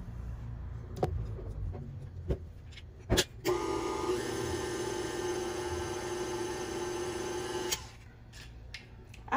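An electric mixer with a swapped beater runs steadily while mixing peach cake batter before flour is added, a moderate whirring hum lasting about four seconds between a few sharp clicks and knocks.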